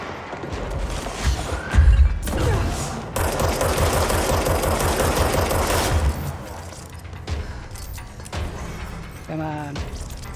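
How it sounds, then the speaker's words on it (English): Rapid gunfire bursts in the video game Control, loud machine-gun-like rattling fire with crashes and mechanical clatter, sustained through the middle then dropping to scattered shots and game noises. "I hear gunfire."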